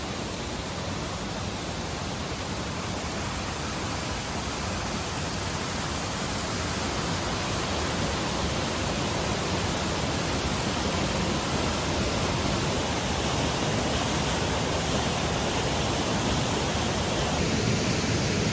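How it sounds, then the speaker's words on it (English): Steady, dense rushing of Trip Creek, a hidden creek in the hills, pouring into a larger body of water, heard close and continuous like broadband white noise with no pauses throughout. "There's the Trip Creek running into it."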